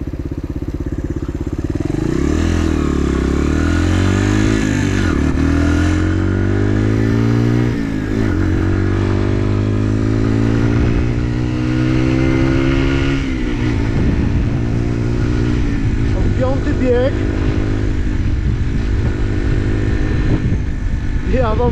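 Chinese supermoto motorcycle fitted with an old Suzuki engine revs hard and climbs through the gears, loud and close, with a steady engine drone throughout.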